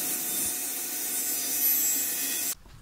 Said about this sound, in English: Just cut it out on a table saw or by hand or whatever else you want to use.